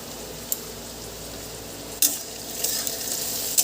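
Crushed garlic dropped into hot oil in a pan, a close, steady sizzle with sharp bursts as it hits and is stirred.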